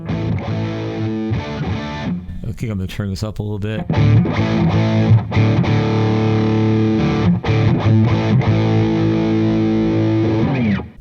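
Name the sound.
electric guitar through distortion amp model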